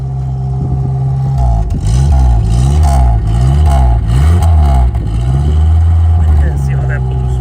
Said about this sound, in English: Listen to that hot rod exhaust right there.